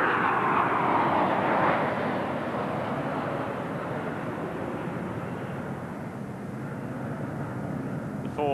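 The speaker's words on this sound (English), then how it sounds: "F-14s from the US Navy and F-15 Eagles from the US Air Force." US Navy F-14 and US Air Force F-15 Eagle jets make a flypast during a 1994 D-Day commemoration: a broad, loud jet roar that peaks early, then slowly fades as it recedes.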